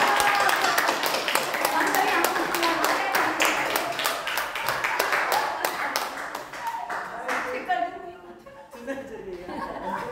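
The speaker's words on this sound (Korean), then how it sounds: "박수." A congregation at a charismatic revival worship meeting claps loudly as a singing pastor is introduced, the individual claps clearly audible, with laughter and chatter mixed in before the clapping fades to talk near the end.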